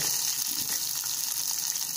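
Onions and green chillies frying in a pan for hotel-style puri curry, a dense, even hissing sizzle that holds steady and close throughout, with no voices.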